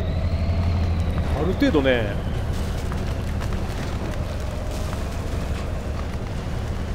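A truck engine in the driving game picar3 rumbles and revs on rough terrain, a loud continuous drone with a brief rising surge early on, while someone talks over it.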